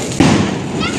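A Diwali firecracker bursts with a single sharp, loud, close bang, followed by crackling and overlapping voices of people celebrating nearby.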